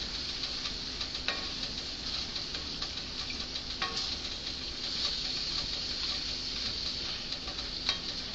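Ground beef for tacos stirred in a hot pan, giving a steady close sizzle with light scraping and ticking spoon contacts throughout, no voices.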